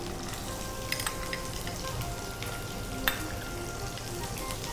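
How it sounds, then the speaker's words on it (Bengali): Chopped garlic sizzles in hot mustard oil for a prawn, fenugreek and poppy seed dish, a close, continuous crackling fry dotted with a few sharper pops. "রসুন কুচিগুলো দিয়ে দিলাম।"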